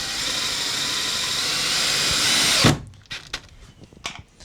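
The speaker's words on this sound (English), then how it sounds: "I'm just evenly going around the window, placing these self-drilling screws in all the appropriate holes." A power drill drives a self-drilling screw into thin aluminum around a camper van window, a steady close whir for nearly three seconds ending in a sharp stop, then light clicks and handling sounds.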